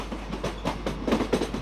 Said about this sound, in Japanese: 全部で何両の貨物を引いてきたか数えてもいませんが、長い貨物列車でした。